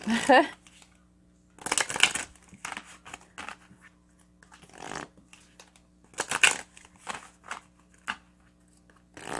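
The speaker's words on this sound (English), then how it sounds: "I have to shuffle them." Tarot cards are riffled and shuffled in several crisp, rustling bursts close up, separated by short pauses.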